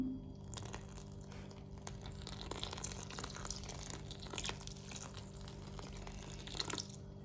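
Water poured into flour batter for sweet vaaippan fritters makes a steady, close trickle and slosh that runs unbroken for several seconds, with faint clinks and stirring noises beneath.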